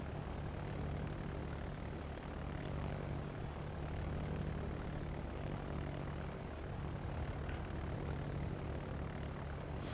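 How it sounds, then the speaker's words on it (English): Propeller bomber engines drone steadily as the planes fly back to their carrier in World of Warships, a faint, even hum that holds without a break and plays alone. "You can see his bombers returning to the ship there."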